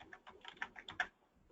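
Typing on a computer keyboard, a quick run of about eight close, crisp key clicks in an irregular rhythm, then quiet.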